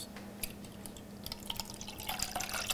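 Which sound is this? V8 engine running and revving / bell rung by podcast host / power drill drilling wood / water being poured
water being poured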